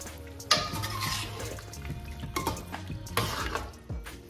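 Milk poured into a white karahi gravy being cooked, giving a steady liquid splashing and trickling with brief stronger surges, fairly close and with no talking.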